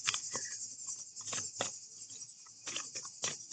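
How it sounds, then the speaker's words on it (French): Crickets chirp loudly outdoors on a summer evening, a dense, continuous high-pitched trill broken by irregular pattering pulses, heard alone without talk. "Je sais pas si vous entendez les grillons, mais ils chantent fort."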